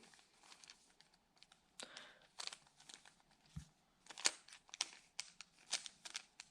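A 3x3 Rubik's Cube being scrambled, a quick irregular run of faint plastic clicks and clacks as the layers turn, close and soft.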